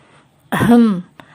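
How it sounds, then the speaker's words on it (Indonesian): A single close throat clearing, a short gravelly rasp rising and falling, followed by a faint click in otherwise quiet surroundings. "berdehem karena sedari tadi ia tidak dianggap ada"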